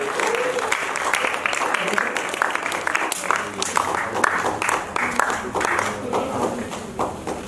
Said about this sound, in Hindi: तालियां सम्मानित करेंगे हमारी दर्शक दीर्घा से